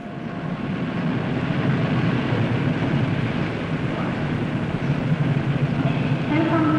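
A train at Stoke-on-Trent railway station gives a continuous broadband rumble and hiss, steady and fairly close, with no talk over it.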